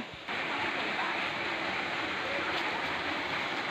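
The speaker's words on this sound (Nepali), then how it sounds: "हामी झरनाको नजिक आइपुगेको छौँ।" Steady, broadband rushing roar of a waterfall at Satashidham, heard from nearby as a constant wash of water with no breaks.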